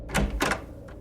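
A door swung shut in a home, heard as a couple of close, solid knocks and thumps with a faint later tap, with no voices.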